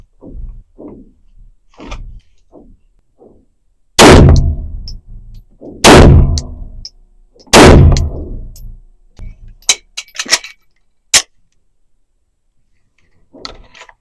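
Three loud, close pistol shots about two seconds apart ring out during a dot torture shooting drill, followed by a scatter of quieter metallic clanks and pops, with faint muffled sounds before the first shot.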